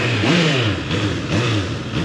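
A nearby 2023 Honda CBR 650R motorcycle engine starts and revs repeatedly, rising and falling in a quick rhythmic series of throttle blips.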